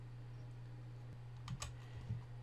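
A few quick keystrokes on a computer keyboard, soft and close, set against a steady low electrical hum.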